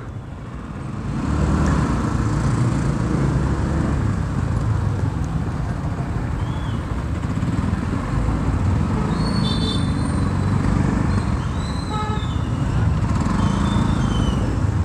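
Traffic on a busy road at 7:15, with motorcycles and other vehicles passing in a steady, continuous rumble that stays loud throughout and carries a few faint higher squeaks and tones.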